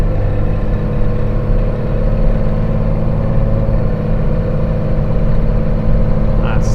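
1995 Dodge Cummins 2500 pickup with its diesel engine running close and loud while the truck moves up through the gears into overdrive and lockup, a continuous rumbling drone with slight shifts in pitch.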